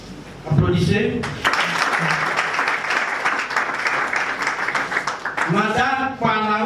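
An audience at an MLC political party gathering breaks into loud, sustained applause after a spoken introduction; the clapping fades as a voice resumes at the end.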